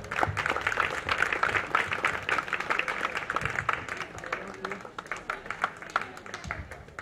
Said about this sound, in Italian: Quindi gli facciamo un altro bel applauso.